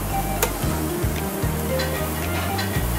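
Steak with already sauteed hot peppers and onions sizzling on a flat griddle for cheesesteaks, a moderate steady hiss broken by a few sharp spatula clicks and scrapes, close by.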